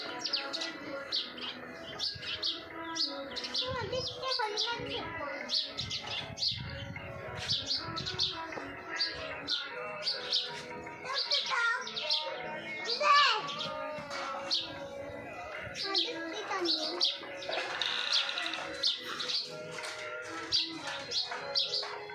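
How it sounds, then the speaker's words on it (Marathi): A sparrow perched on a wire chirps in quick, bright, repeated bursts, close and lively, with other faint bird calls and some low background noise during a morning cycle ride. "ती चिमणी कशी तार बसली आहे का तिथं डिस्टच्या खाली"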